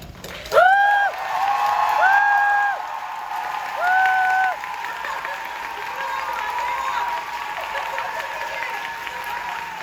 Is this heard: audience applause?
yes